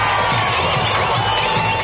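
A large, dense crowd roars steadily and loudly throughout Annamalai's late-night road show in Coimbatore, with cheering and shouting blended into one continuous wall of noise.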